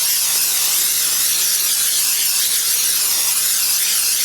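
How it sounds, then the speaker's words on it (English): Cooking spray hissing from a can onto a baking pan, a loud continuous close-up spray held for several seconds. "spray down our baking pan"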